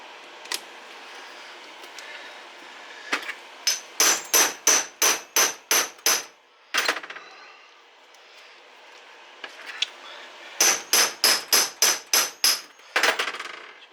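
A hammer smacks hard at the split engine cases of a 1984 Kawasaki KLT 110 three-wheeler, landing in two fast rhythmic bursts of about seven sharp metallic blows each, with a few scattered single hits between. The strikes are loud and close.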